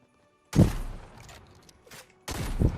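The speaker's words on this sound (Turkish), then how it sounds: "Şu an karşımdan bir yerlere sıkıyorsun." Gunfire in the video game Fortnite: a burst of shots opens loud and close, a dull rumble of continued firing follows, then a second heavy volley breaks in near the end, with no talking.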